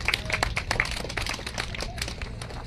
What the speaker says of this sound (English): I think we have to give a round of applause for that